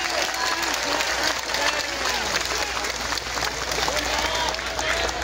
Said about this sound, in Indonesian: Tepuk tangan untuk BMI, keren ini.